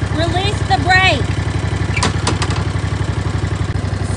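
A key-start lawnmower engine idles with a steady, close, throbbing putter throughout, and a voice speaks briefly over it at the start.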